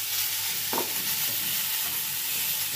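Vegetables sizzling in hot oil in a wok, with a brief spatula scrape as they are stirred, a steady close frying hiss with no voices.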